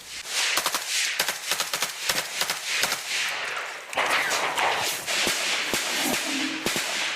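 Rapid sharp cracks of gunfire in a Ukrainian trench position, some in quick bursts and others single, sounding fairly close, with a whistling tone near the end.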